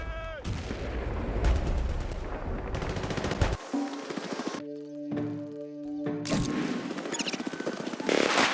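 Light machine gun laying down covering fire in the video game Battlefield Bad Company 2, rapid bursts of automatic gunfire with brief pauses, mixed with game effects and tonal sounds in the middle.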